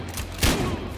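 Gunfire striking cover in the video game Hardline, a short burst of shots with one sharp, heavy impact in the middle, close and loud.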